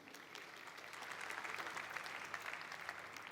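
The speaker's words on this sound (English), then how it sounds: "Round of applause for Tzvi." Audience applause at a startup investor event, a steady wash of clapping from a crowd that swells slightly and holds for several seconds with no talking over it.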